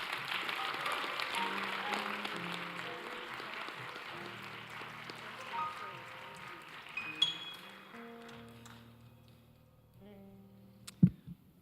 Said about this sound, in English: Let's give another round of applause to President Abraham Lincoln.